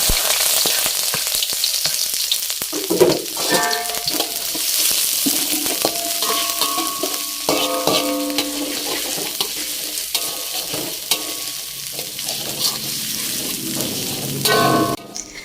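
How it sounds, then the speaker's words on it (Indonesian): Vegetables sizzle steadily in hot oil with chili and garlic, a continuous bright frying hiss with occasional scrapes and clinks of stirring in the pan. "Aku panasin minyak untuk tumis sayur."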